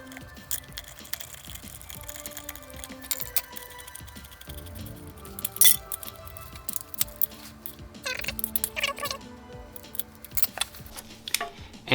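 Bolts and a slave cylinder being fitted onto a Nissan 370Z clutch: scattered metallic clicks, ticks and light scraping, close and fairly quiet, with a few sharper taps.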